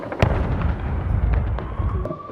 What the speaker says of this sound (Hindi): यूक्रेनी ड्रोन के खिलाफ रात भर चली एंटी एयरक्राफ्ट गन्स।